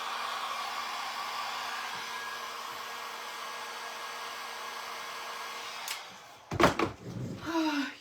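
A weak heat gun that only blows warm air, running as a steady whooshing blower hum for several seconds, then cutting off into a few knocks and handling thumps.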